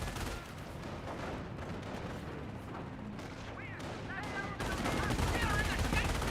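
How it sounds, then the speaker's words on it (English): Schwimmwagen and 250 half-track machine guns firing in Company of Heroes, a dense continuous rattle of gunfire with booms, growing louder near the end, with someone talking over it. "Schimwagen and 250 half track firing away"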